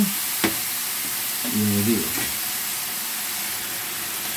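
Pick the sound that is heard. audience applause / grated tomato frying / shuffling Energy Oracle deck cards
grated tomato frying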